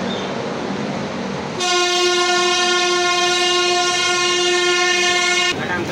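A Shramjeevi Superfast Express train crossing Shivaji Bridge in Delhi sounds a long, loud, steady horn blast lasting several seconds over rumbling rail noise and clatter.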